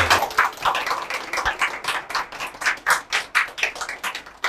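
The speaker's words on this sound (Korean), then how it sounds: "여러분들의 뜨거운 박수 부탁드리겠습니다" A seminar audience at a university lecture on generative AI claps, a scattered, moderately loud round of hand claps that comes in uneven bursts for a few seconds.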